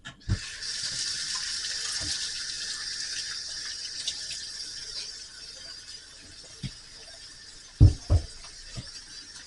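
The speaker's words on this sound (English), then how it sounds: "Wash my hands again." Water runs steadily from a kitchen tap as hands are washed beneath it, a close, continuous hiss broken near the end by a few thuds and knocks at the sink.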